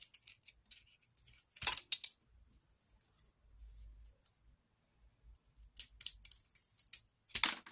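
Scissors snip the ends off pieces for a DIY fairy house built in a tree, in a few quiet, crisp bursts separated by near-silence, with faint handling noise in between.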